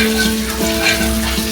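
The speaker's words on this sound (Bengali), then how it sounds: "দিয়ে একটু ঘির উপরে আমি আদাটা ভেজে নেব" Chopped ginger sizzling and frying in hot ghee in a pan, a steady, close, continuous sizzle with no talking.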